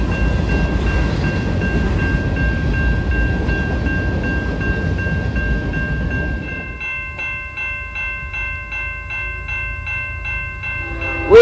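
Norfolk Southern freight train on the NS Detroit line near Toledo, a loud steady rumble of passing cars that gives way to rhythmic clickety-clack of wheels over rail joints, with no talking.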